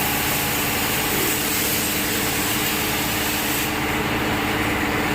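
A batasa sugar-candy making machine runs with a steady, loud mechanical drone and dense broadband noise that holds constant throughout, with no speech over it.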